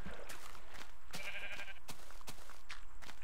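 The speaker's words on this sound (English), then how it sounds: "What the heck? Multiple sheep." Several sheep bleating in Minecraft, short nasal bleats in a scattered rhythm over a steady game background.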